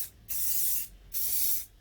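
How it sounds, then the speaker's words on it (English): Two close, steady bursts of aerosol silicone spray hiss onto the rubber contact mounts under a motorcycle seat, each lasting about half a second with a short pause between, with no talking. "I'm going to spray these rubbers, these contact mounts, with some silicone"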